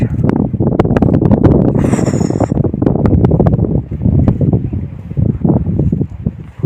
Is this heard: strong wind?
yes